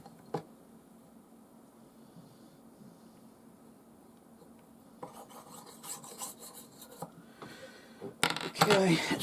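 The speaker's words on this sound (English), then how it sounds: "just doing it lighter and lighter on the blade, okay, to just gradually remove that burr" A knife blade rasps across a banded jasper whetstone, faint steady scraping at first, then quicker, louder strokes toward the end as the burr is worked off.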